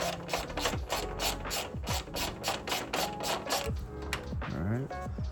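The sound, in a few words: ratchet tightening a bolt on Acura Integra hood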